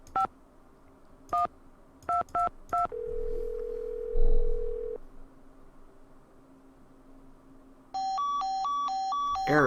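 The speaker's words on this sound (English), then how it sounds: "Why am I getting error tone?" Telephone in the Nancy Drew video game: several short keypad dialing beeps, then a steady held tone, then a repeating two-pitch error tone that keeps alternating until the end.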